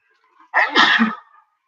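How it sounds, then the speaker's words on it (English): A single loud, explosive sneeze, close up, with a short breathy lead-in and a quick fade afterward. "I'm going to sneeze."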